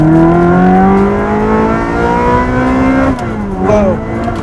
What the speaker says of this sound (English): it's hard to go wrong with a Ferrari, but this sounds exceptionally good